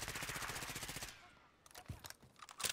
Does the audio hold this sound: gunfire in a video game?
yes